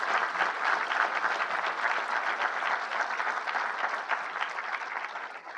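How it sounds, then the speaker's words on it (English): A large audience applauds dignitaries at a 2017 State of the County address, with dense, steady clapping that stays loud and even for the whole stretch and fades slightly at the end. "Round of applause for our dignitaries this morning."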